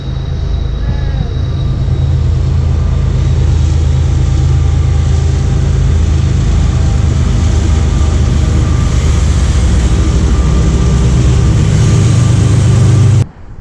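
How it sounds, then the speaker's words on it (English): A loud, steady low rumble of a train rolling past nearby, holding constant for the whole stretch before cutting off abruptly at the end. "I think there's a train coming."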